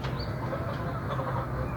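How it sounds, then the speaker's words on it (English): Chickens on a chicken farm in Kenya cluck and chatter continuously, a busy flock sound at moderate level with a faint higher call or two, and no talk over it. "and as you hear the noise of chicken,"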